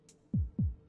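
Low-health heartbeat cue from the dungeon-crawling video game Dicey Dungeons, two deep, close thumps in a steady lub-dub rhythm over a quiet background, with a faint higher tick before them.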